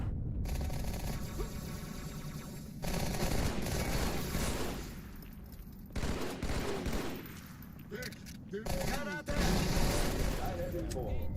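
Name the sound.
gunfire in the video game Halo 2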